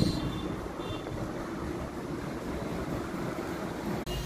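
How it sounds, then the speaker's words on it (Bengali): A steady, breathy rush of wind blows continuously outdoors, fairly faint and unchanging, with no voices. "দেখেন বাইরে বাতাস।"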